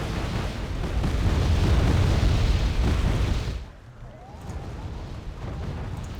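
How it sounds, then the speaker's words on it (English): Rocket artillery explosions in the Cold War strategy game Wargame: AirLand Battle, a heavy roaring barrage of overlapping blasts that swells loudly for a few seconds, then drops to a lower rumbling aftermath. "Rocket arty."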